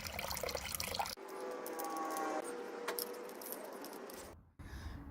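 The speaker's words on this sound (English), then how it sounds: "So here comes the coolant, nice and green." Old green coolant, left about ten years in a turbo ZXR motorcycle's radiator, drains out as a steady close liquid trickle and splash that runs for several seconds before cutting off briefly.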